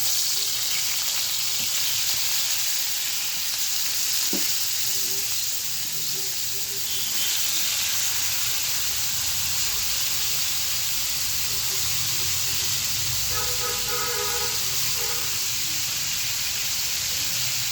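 Rohu fish heads frying in oil in a frying pan give off a loud, continuous hiss and sizzle with a few soft clinks, and there is no talk.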